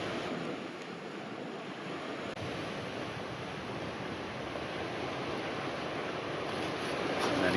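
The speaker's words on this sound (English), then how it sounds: "we've got a gentle breeze coming in from the sea" A gentle breeze comes in off the sea with waves washing ashore, a steady broad rush of wind and surf that swells slightly louder toward the end, with no voices.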